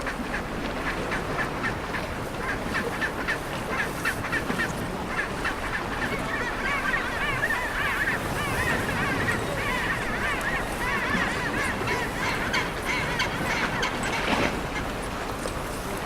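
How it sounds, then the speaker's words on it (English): Waterfowl such as ducks or geese honk and call continuously in an Antarctic setting, a busy, overlapping chorus of squawks at moderate distance over a constant outdoor background. "Hear birds."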